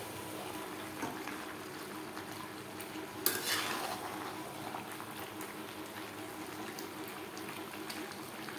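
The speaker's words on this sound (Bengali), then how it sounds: "মাংসের সাথে টমেটো বেশ ভালো করে মিক্স করে দেবো।" Chicken curry with sliced tomatoes stirred in a pan over gas, a continuous soft simmering hiss with faint scraping and one brief clatter of the utensil against the pan.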